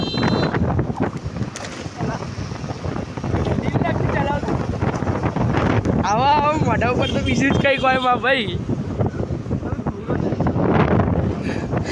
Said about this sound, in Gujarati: મસ્ત ઠંડો બરફ જેવો પવન ઝીણા ઝીણા છાંટા